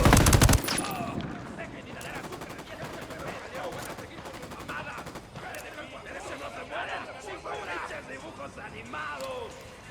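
Gunfire in Ghost Recon Wildlands opens with a loud burst, then a string of sharp rapid shots continues under voices talking over the action.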